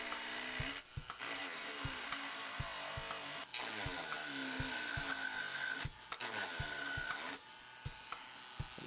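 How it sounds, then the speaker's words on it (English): A Dremel rotary tool cuts through wood to notch out space for a ramp pickup's ears, a steady high whine broken by short pauses and repeated bites into the material, loud and close with no voices. "we'll use the Dremel and cut out for the ears that stick out of the pickup"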